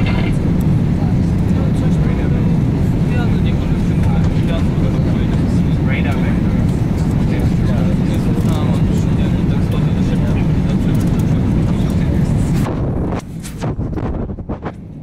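Steady, loud cabin roar aboard a Lufthansa airliner on flight LH434 from Munich to Chicago during a landing approach, a dense broadband drone holding for about twelve seconds before dropping to quieter rumble with faint knocks at the end.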